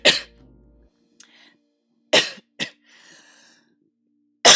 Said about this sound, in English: I'm still coughing because I was choking on my own saliva earlier.